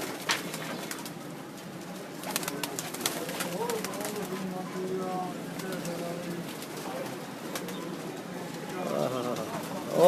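Soft, throaty cooing of pigeons murmurs steadily, with occasional flaps and rustles nearby, under a low background hum.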